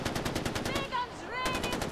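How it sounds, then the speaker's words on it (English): Rapid automatic gunfire shot into the air in the Far Cry 4 video game, dense loud bursts of fast repeating shots with a brief pause in the middle, mixed with game sound effects and a voice. "I'm just shooting in the air."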